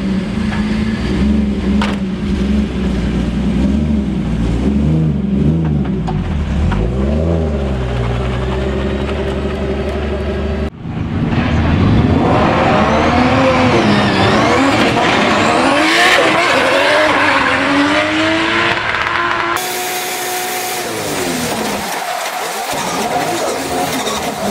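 A Nissan Skyline drifts through a gymkhana run at Goodwood Speedweek on proper tyres, its engine roaring and revving continuously up and down as the car slides, with tyre squeal mixed into the loud, close, unbroken drive.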